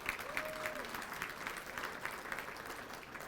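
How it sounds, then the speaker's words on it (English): Audience applause at a Border Patrol Foundation anniversary dinner in Washington, D.C., a steady wash of clapping from a banquet room, moderately distant and fairly soft throughout. "that deserves a round of applause."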